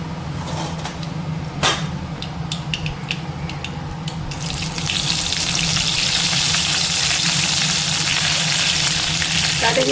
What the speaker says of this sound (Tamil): கடுகு சீரகம் நல்லா பொரிஞ்சிருச்சு.